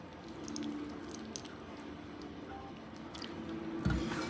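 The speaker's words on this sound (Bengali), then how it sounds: "এবার চেপে চেপে জল বের করে নেবো" Soft wet squishing and dripping as boiled soybean chunks are pressed by hand to squeeze out water, quiet and close, ending in a louder squelch.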